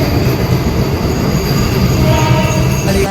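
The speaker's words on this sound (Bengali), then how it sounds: "এই যে দেখতে পাচ্ছেন আমাদের ট্রেন চলে এসেছে আগরপুর মেলায় যাওয়ার জন্য।" A crowded passenger train pulls into a station on the way to the Agharpur fair, with a steady loud rumble of wagons and wheels and a faint squeal of wheels on the rails.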